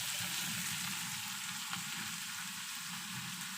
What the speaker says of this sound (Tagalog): So, lagyan na natin yung kamatis.